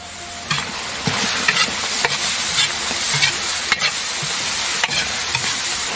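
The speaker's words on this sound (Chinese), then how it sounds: "生煎大葱" Scallions pan-fried in a wok sizzle loudly and continuously, with regular scraping clicks of a spatula stirring through them, no voices.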